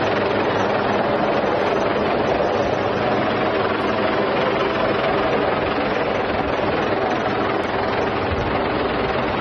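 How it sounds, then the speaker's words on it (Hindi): Rescue helicopter arriving at sea to evacuate stranded fishermen, a loud, continuous rotor-and-engine roar that stays steady and dense throughout, with no voices. "फिर उसके बाद वहां वो हेलीकॉप्टर पहुंचता है, चॉपर पहुंचता है और उन्हें रेस्क्यू किया जाता है।"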